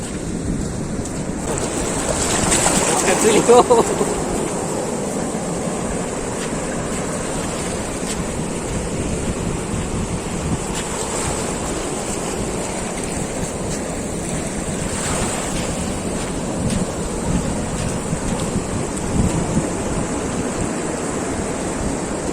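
Foamy sea waves roll and break on the shore at Padubidri Blue Flag Beach in Karnataka, a loud, continuous wash of surf under steady wind buffeting the microphone.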